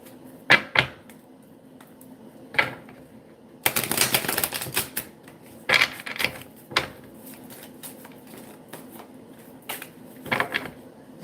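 Tarot cards being shuffled by hand at close range, with sharp riffling bursts and scattered crisp snaps spaced irregularly, including one longer dense shuffle, between quiet pauses.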